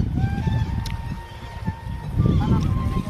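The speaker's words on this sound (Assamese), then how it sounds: "আৰু সেইফালে চব ভাটৌ চৰাইবিলাকে মাতি আছে" Parrots call in the evening at Kaziranga, thin tonal cries rising faintly over a low, rumbling outdoor background in the company of elephants.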